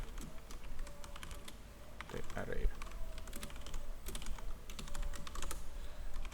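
Code being typed on a computer keyboard while writing a C array-printing function: quiet, rapid, irregular key clicks throughout, with a soft voice faintly in the background.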